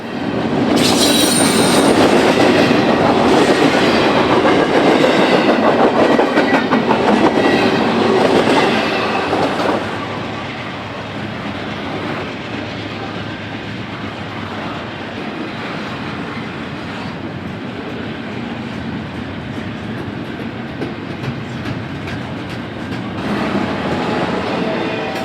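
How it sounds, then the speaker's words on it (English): Freight train 277 crawling slowly west out of Pine Siding, loud and near at first with squealing wheels and clattering cars, then settling into a steadier rolling rumble and rhythmic clack that swells again at the end. "the 277 begins a slow crawl west out of Pine Siding"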